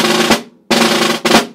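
Snare drum at forte plays a dotted quarter note roll cut off into a drag, two loud sustained buzz rolls separated by a short gap, close and dry.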